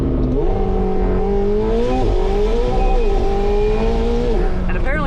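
A McLaren 720S sports car engine pulls hard and loud throughout, its rising and falling revs steady and close, with a brief tire squeal and a voice speaking over it.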